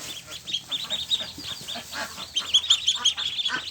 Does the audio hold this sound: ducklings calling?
yes